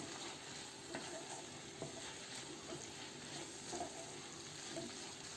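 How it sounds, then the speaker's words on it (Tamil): Onion, tomato paste and chopped mushrooms fry in a pan with a soft, steady sizzle, broken by light scraping stirs every second or so. "இப்போ தாளித்த பொருள் வெங்காயம், தக்காளி விழுது இது எல்லாத்தோட நம்ம இந்த காளானையும் போட்டு நல்லா ஃப்ரை பண்ணிகிட்ருக்கோம்"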